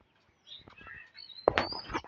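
Young pigeons on a rooftop give a few soft chirps and squeaky calls, close and faint, scattered over a quiet background with a brief louder burst near the end.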